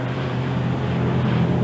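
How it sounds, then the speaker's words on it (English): A Merlin-engined unlimited hydroplane racing boat roars at a 1986 Evansville race heat, a loud, steady low engine drone with wind and water noise and no pauses. "The Merlin engine-powered Joe Ritchie Spirit of America with Tom DeEath driving like a possessed man"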